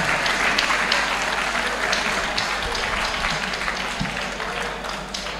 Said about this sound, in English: Clap for yourself, that's great.